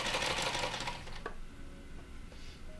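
A sewing machine stitches an elastic seam on a garment, a loud rapid run of needle strokes that slows and fades after about a second, followed by a few quieter clicks and whirs.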